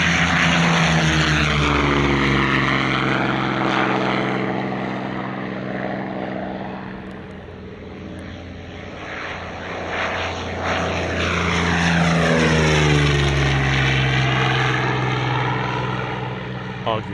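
A piston-engine warbird fighter aircraft drones loudly overhead at an Australian airshow, its engine pitch rising and sweeping as it passes close by, then coming around again.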